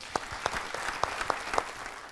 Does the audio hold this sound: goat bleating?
no